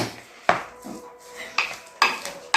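Minced kebab meat mixed with ghee in a bowl by hand, giving a few sharp clinks and knocks against the bowl and soft wet squelches at an irregular pace, close and fairly loud with no talk.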